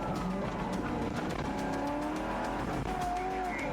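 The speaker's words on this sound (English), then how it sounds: "They chasing somebody in the cop car." Police car and another car racing at speed in a chase, engines roaring continuously with tyre squeal and skidding, loud and close throughout with no talk.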